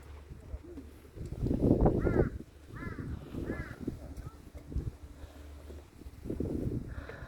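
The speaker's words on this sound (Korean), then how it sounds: "까마귀 엄청 커." Large crows caw several times on a windy mountain trail near the Jindallaebat shelter on Hallasan, their harsh calls ringing out in short bursts between bouts of wind noise and people's talk.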